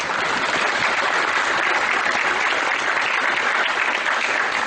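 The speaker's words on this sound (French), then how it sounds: "On peut les applaudir." An audience at a French football coaching presentation applauds, a dense, even roar of many hands clapping continuously, loud and sustained throughout.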